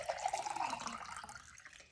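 Liquid pours into a cup in a short, steady trickling splash, close and fairly quiet, with no talking.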